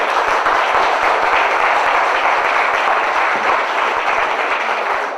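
A large audience gives a dense, continuous round of applause at an evening celebration honouring women, loud and steady throughout with no break.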